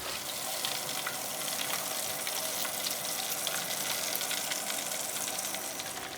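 Flower crab deep-fries in oil in a pan, a dense, constant bubbling sizzle that stays loud and even from start to finish, with no voices.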